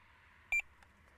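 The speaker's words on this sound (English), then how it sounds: "So the next one is 2 bleeps" A Tx-i Plus fishing bite alarm gives two short electronic bleeps in quick succession, clear and close against a quiet background.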